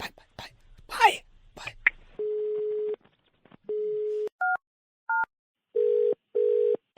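Telephone tones after a prank call is hung up: a short burst of speech at the start, then repeated steady beeping tones in separate bursts, including a brief two-tone pair, clear and close.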